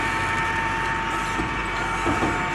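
A Volvo ABG 6820 paver rides a trailer downhill with a steady, loud mechanical rattle and clank that continues without a break.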